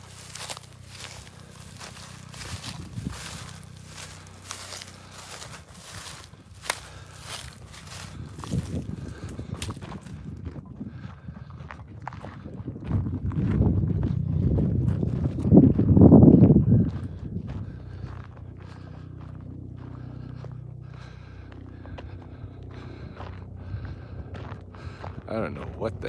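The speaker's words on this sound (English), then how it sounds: "it's a helicopter." A helicopter passing overhead in a rural outdoor setting, a low rumbling drone that swells to a peak then fades, heard under footsteps and someone talking.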